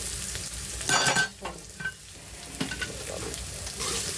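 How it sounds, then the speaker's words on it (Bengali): Potatoes frying lightly in a pan with cumin, a steady soft sizzle broken by a few brief stirring scrapes, close and moderate in level. "এই যে আলুটা একটু হালকা একটু ভেজে নেব।"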